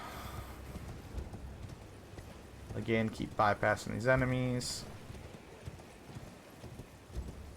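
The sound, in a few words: horse galloping hooves in Elden Ring video game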